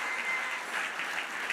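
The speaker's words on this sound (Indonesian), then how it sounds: "Beri tepuk tangan dulu." Brief, even wash of applause from a church congregation during a worship service, many hands clapping together in a soft, continuous patter that holds steady throughout.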